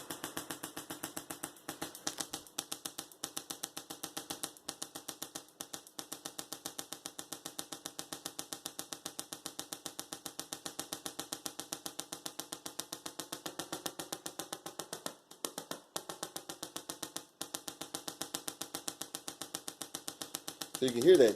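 A half-wave solid state Tesla coil driven at 120VAC buzzes steadily with a harsh, rapidly pulsing tone, briefly interrupted and shifting in pitch as its PLL frequency is adjusted.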